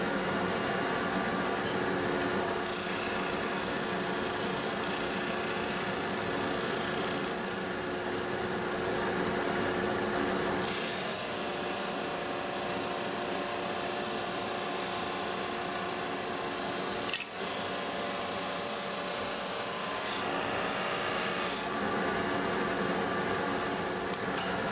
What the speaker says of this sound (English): The next step is to sand the boards to thickness, and I have a surface sander